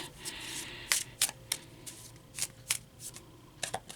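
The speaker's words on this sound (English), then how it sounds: "Let's give one more shuffle here" Tarot cards shuffled by hand during a Halloween new-moon card reading, giving a series of sharp, close riffling bursts and soft flutters at an uneven rhythm, with no talking.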